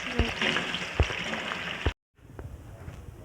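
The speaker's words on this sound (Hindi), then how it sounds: "अभी आलू को डालूंगी फ्राई करने के लिए।" Potato slices frying in hot cooking oil, a steady close sizzle with a few sharp pops and clinks, cut by a brief gap of silence before the frying resumes more softly.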